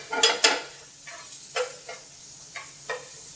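Ground meat frying in a pan, with a few sharp scraping stirs at the start followed by soft, intermittent sizzling bursts as it is pushed around, close and fairly quiet.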